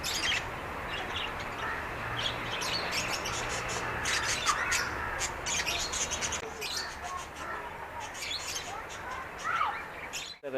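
Many birds chirp and tweet in a busy overlapping chorus in a small zoo aviary, with occasional squawks, steady throughout against a low background hum.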